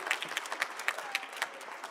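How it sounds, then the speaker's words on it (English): An audience claps at a high school and 5th grade band concert, a brief, fairly soft round of applause with individual claps standing out in an uneven patter. "let's give her a round of applause"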